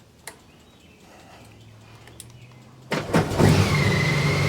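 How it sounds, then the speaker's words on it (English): A Honda Goldwing motorcycle on a jump from a dead 12-volt battery cranks briefly after a quiet wait, then catches and settles into a close, steady running idle. "If you need to crank the bike up"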